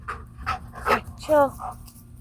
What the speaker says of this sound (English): My dog is going off.